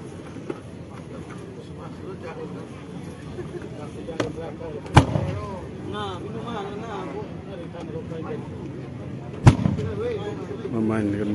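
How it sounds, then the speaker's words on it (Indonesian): Two loud, sharp booming blasts from bamboo cannons several seconds apart, each echoing briefly, over a murmur of people talking and outdoor background noise. "memainkan meriam bambu."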